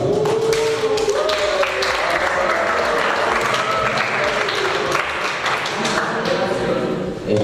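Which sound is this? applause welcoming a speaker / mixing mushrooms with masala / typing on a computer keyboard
applause welcoming a speaker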